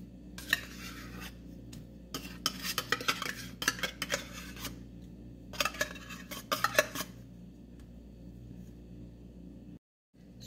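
Besbusa cake batter is mixed in a bowl with a utensil, making bursts of rapid scraping and clinking separated by quieter pauses, with a brief dropout near the end.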